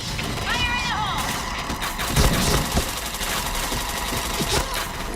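Gunfire in the PointBlank online shooter game, with rapid weapon shots and impacts popping over a dense, continuous game soundscape while a voice talks through it.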